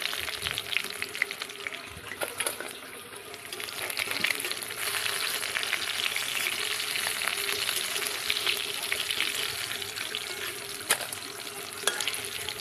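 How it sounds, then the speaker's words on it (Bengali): Shol fish, a snakehead, fry in a wok with a steady close sizzle and crackle, broken by occasional sharp clicks and scrapes from stirring. "আমার মাছগুলো ভাজা হয়ে গেছে।"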